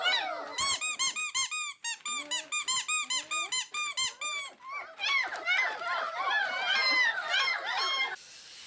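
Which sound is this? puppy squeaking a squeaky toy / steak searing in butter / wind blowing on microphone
puppy squeaking a squeaky toy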